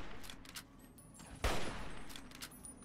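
An Army Protectron robot firing at the player in Fallout 3, giving one sharp, loud burst of gunfire against a faint background of game ambience and sparse ticks.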